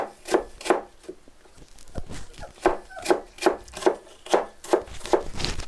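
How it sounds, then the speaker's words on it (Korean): A knife chops repeatedly through firm apple on a cutting board into small cubes, sharp close knocks in a steady, slightly uneven rhythm with no talking. "이어서 사과를 작은 크기로 썰어주세요."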